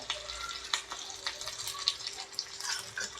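Ginger, garlic and cumin sizzle in hot oil as a tempering for dal fry, a bright crackling hiss broken by sharp pops and stirring scrapes, close by and fairly quiet.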